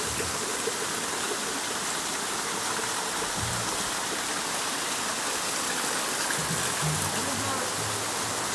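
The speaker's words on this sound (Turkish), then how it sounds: "Şelalenin kaynağı var. Yani şelale buradan kaynıyor ve aşağı doğru gidiyor." Water rushes steadily from the source of Harbiye falls in Hatay, a dense broadband roar of a waterfall and flowing stream that stays loud and constant throughout, with faint low murmurs in the background.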